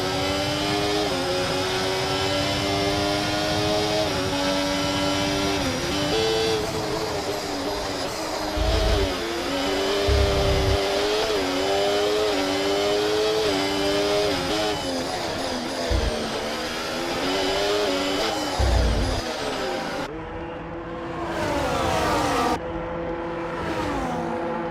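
Formula 1 car in the F1 24 racing game pulling into the pit lane and stopping for a pit stop, with a steady engine drone, pit-limiter whine and a few brief bursts of air-gun and revving near the end.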